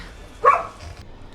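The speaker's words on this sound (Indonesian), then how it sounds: "doginya terus menggonggong seolah ingin menunjukkan sesuatu" A single short dog bark rings out once, fairly close, then quiet background noise follows.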